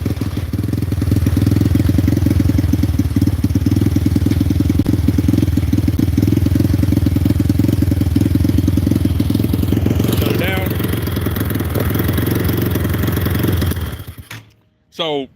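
A Zongshen 250cc engine swapped into a Venom motorcycle runs with a steady, loud low-pitched throb near the microphone, briefly revving before cutting off near the end, with a person talking over it.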